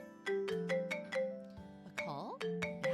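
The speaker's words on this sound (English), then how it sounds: "Lost in these thoughts, I heard my phone ring." An in-game phone rings in an otome visual novel, a repeating electronic chime melody of bright clear notes with a short warbling tone partway through, alone and close.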